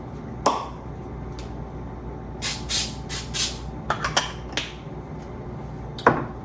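Several short hissing spurts from an aerosol cooking spray can into a cake pan, close and fairly loud, in uneven bursts between faint clicks and handling noises.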